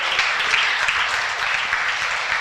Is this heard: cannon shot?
no